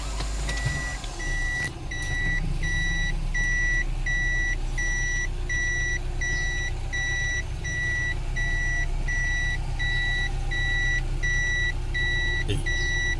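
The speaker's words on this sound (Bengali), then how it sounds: "এখন আমি আস্তে আস্তে পিছনে নেব, গাড়ি পিছনে নিয়ে পার্কিং করব।" A car reverses slowly into a parking space, its reversing alarm sounding steady, evenly spaced beeps over a low engine idle for the whole stretch, with no talking.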